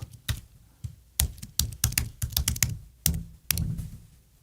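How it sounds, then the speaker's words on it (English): A password being typed on a computer keyboard: quick, uneven bursts of close, light key taps and clacks, with short pauses between runs of keystrokes and no voices. "that's literally what I'm typing in"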